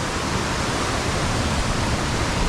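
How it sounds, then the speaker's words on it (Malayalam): A stream near Mawsynram village, India's rainiest place, rushes in a loud, dense, unbroken roar of flowing water, close by and steady, with no voices. "വെള്ളം ഇങ്ങനെ ഒഴുകി പൊക്കോണ്ടിരിക്കുകയാണ്"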